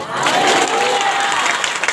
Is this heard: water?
no